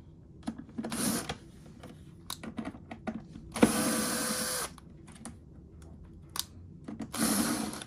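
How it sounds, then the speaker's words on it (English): A Phillips-head screw gun drives screws during a repair of a Zojirushi water boiler, giving three close whirring bursts: a short one near the start, a longer sustained run in the middle and another at the end, with small clicks and handling noises between them. "Just use a Phillips head screw gun for that."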